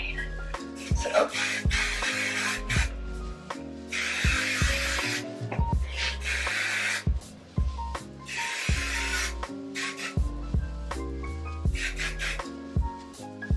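Aussie hairspray hisses in repeated bursts of spray onto hair, several long blasts separated by short pauses, with music playing throughout.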